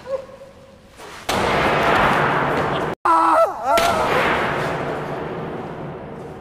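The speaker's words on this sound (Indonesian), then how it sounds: "Mendengar suara tembakan" In a film scene, heavy gunshots boom amid dramatic noise: a loud blast, a brief silence, then another powerful shot with ringing and a lingering rumbling tail.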